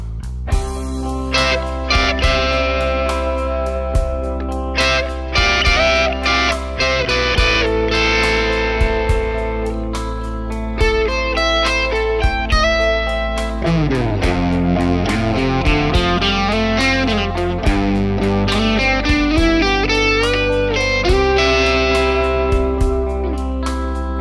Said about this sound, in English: I want to know if these lipstick pickups can deal in a bright, sizzling 60s tone